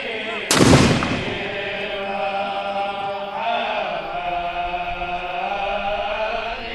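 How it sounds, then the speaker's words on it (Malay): A cannon from a 17-round salute fires at a royal wedding powdering ceremony at Istana Nurul Iman, Brunei: one loud, close boom with a long rolling echo over sustained background tones. "17 das tembakan meriam dilepaskan sebagai menandakan bermulanya istiadat berbedak pengantin diraja."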